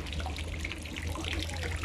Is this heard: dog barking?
no